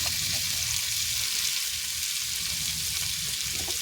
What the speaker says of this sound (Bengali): নুন দেব ভালো করে কষিয়ে নেব